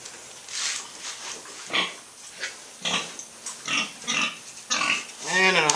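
A gilt grunts in a series of short, close, moderately loud grunts with uneven gaps, heard alone without talk.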